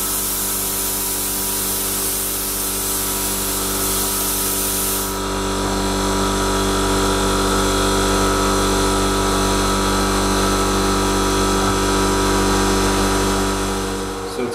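Lidl Parkside PPS 40 A1 plasma cutter cutting metal, a loud continuous hissing roar with a steady hum underneath, sustained for the whole stretch and shifting in character midway.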